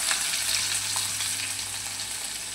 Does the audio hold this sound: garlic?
yes